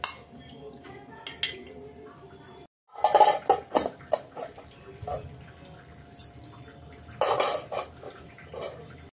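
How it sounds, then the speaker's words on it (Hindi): A utensil scrapes and clinks against a metal cooking pot as food is stirred with salt in a home kitchen. The bursts of clatter are close and irregular, with brief pauses between them and soft voices in the background. "इसमें ऐड कर देंगे नमक और इसको अच्छे से मिक्स कर देंगे"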